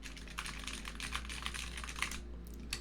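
Rapid typing on a computer keyboard for an ASMR session, a close, continuous patter of crisp key clicks that stops briefly near the end, over a low steady hum.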